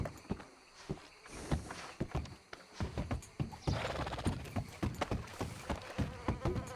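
A horse in Red Dead Redemption 2 stands outdoors, with a snort and irregular hoof thuds and shuffles near and fairly quiet over a faint insect-like buzzing ambience.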